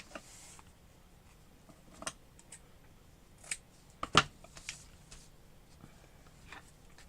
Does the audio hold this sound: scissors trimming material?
yes